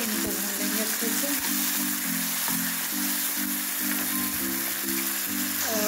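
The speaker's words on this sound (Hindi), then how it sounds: "और अब मैंने डाल दिए टमाटर, इनको भून लेंगे अच्छे से" Tomatoes frying in a pan, a steady, loud sizzle that holds evenly throughout, with faint tonal hums underneath.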